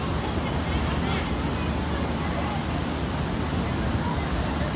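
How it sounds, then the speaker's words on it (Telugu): A river flowing slowly, heard as a dense, constant rushing wash that stays even throughout, with faint indistinct voices murmuring under it. "నది వెళ్తుంది నిదానంగా వెళ్తుంది."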